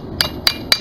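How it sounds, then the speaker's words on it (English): Three sharp, evenly spaced ringing strikes of a small, light ball peen hammer on a horseshoe over an anvil, loud and close with no voices, during blacksmith finishing work. "he switched over to the smaller, lighter ball peen."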